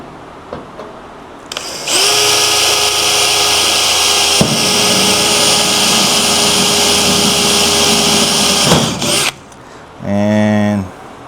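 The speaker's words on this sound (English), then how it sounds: "I drill a hole first." A power drill bores a pilot hole for self-tapping screws into the trunk gutter of a 1963 Chevrolet Impala, a loud steady whine lasting several seconds, then a short second burst after a pause.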